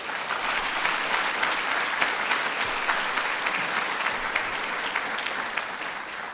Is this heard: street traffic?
no